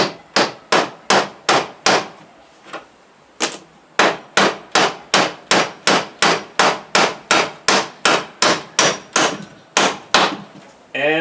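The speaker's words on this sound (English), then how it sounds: "minimize all the bent nails you might get if you're hammering in all the way" Steady hammer blows drive nails into a wooden piece, about two strikes per second, sharp and close, with one brief pause partway through and no talking.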